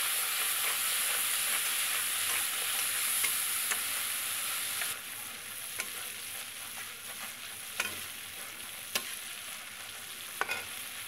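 A turmeric, salt and chili paste frying in plenty of oil for a fish curry, with a loud continuous sizzle and scattered sharp pops and clicks. The sizzle drops slightly in level midway and carries on close and steady.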